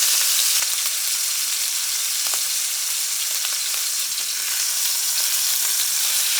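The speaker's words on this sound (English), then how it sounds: "It's going to sizzle a little, but that's alright." Top sirloin steak sizzles hard in a hot oiled pan, a loud, continuous hiss and crackle with occasional sharper pops, close up and steady throughout with no voices.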